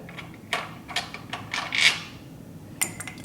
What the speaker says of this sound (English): loosen up this motor mount bolt